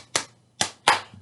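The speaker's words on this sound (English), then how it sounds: "there's a little bit where you can clap in just before we get to the chorus" Three sharp claps ring out in an uneven rhythm, loud and close, against a faint low hum, like children clapping in time with a song at a school assembly.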